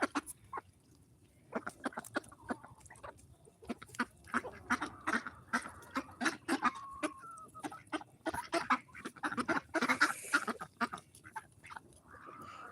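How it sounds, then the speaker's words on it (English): Ducks feeding on a farm, a busy stretch of close dabbling and pecking clicks mixed with short quacks and clucking from nearby fowl, steady throughout with a few louder calls. "We're watching the ducks eat"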